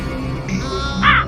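A single short, raspy crow caw sounds once near the end over a steady background music bed, within an animated Hindi moral tale.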